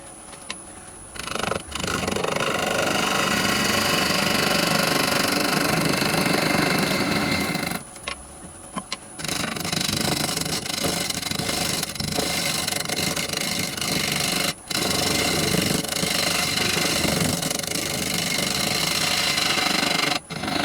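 A wood lathe turning a yew blank at about 500 rpm runs loudly and continuously, a rough whirring hum with rattling knocks, dipping briefly twice before carrying on.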